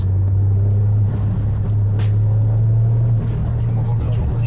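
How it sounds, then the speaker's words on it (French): A Toyota GR Yaris drives along with a loud, steady low hum and road rumble from inside the car, with occasional faint sounds over it. "On entend cette voiture."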